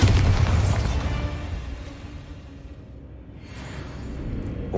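A Bombarda spell blast in Hogwarts Legacy: a loud, deep boom at the start that rumbles and decays over a few seconds, followed by a softer rising whoosh of debris near the end.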